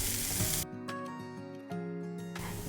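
Finely chopped onions hit a hot pan for a veg burger recipe, a brief loud sizzle that settles into a softer hiss with some stirring.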